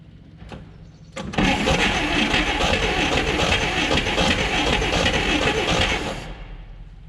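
A 1959 Apache that had sat for nearly 40 years, with a poorly working idle circuit, cranks briefly, then catches and runs loudly and roughly for several seconds before the engine noise fades.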